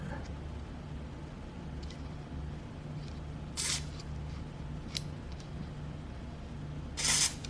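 Lubricant spray is applied to an office chair's gas cylinder to fix squeaking, two short sharp hissing bursts about three seconds apart, with a third brief spritz between them, over a quiet room hum.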